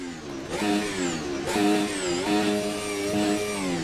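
A Formula Ultimate 2019 single-seater in Automobilista 2 revs its engine with a high, harmonic whine, rising through the gears with brief dips at each shift, loud, close and steady, with no talk.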